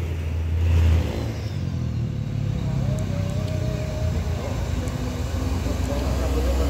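A Dieng Indah bus engine builds through a low, mid-range roar at a busy holiday bus terminal, with a strong surge near the start and a steady drone after, under ongoing crowd and traffic noise.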